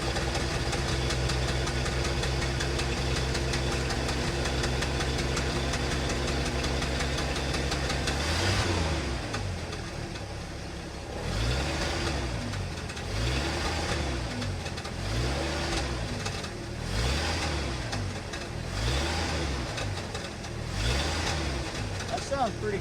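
A 1974 Ford F-250 Ranger SuperCab engine, fresh from a spark plug and wire change, runs loud and close with a steady low throb, settling into a rhythmic pulsing idle partway through.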